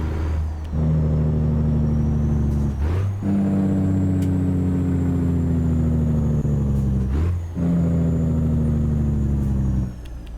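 Deep, steady truck engine drone in American Truck Simulator, a low rumbling tone that shifts pitch through two gear changes with brief dips, loud and continuous with no talking.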